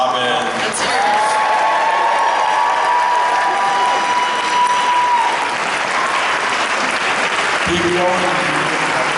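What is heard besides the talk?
audience applause and cheering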